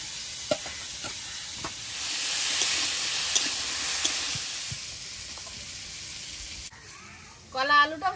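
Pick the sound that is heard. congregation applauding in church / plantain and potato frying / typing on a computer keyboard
plantain and potato frying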